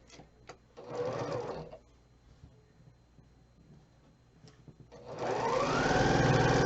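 Sewing machine stitching quilt units together, with two bursts of fast rhythmic whirring: a short run, a quiet pause, then a longer, louder stretch.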